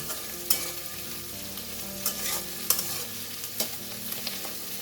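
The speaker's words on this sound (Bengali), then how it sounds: "এবার একটু এটাকে আর একটু ভেজে নেব" Vegetables frying in a pan for sabudana pulao: a continuous near sizzle broken by a handful of sharp, evenly spaced spatula clicks and scrapes as they are turned.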